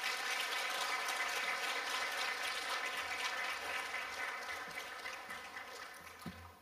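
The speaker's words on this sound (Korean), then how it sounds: "나오실 때 뜨겁게 우리 박수 하겠습니다." Congregation at a Wednesday evening church service applauding a returning missionary, a soft, distant wash of clapping over a sustained organ-like tone that gradually fades toward the end.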